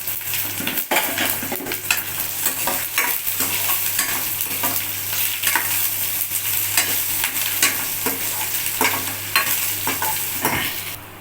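Ingredients sautéing in sesame oil for South Indian lemon rice, a steady close sizzle with frequent clinks and scrapes of a spoon stirring against the pan throughout, no voices.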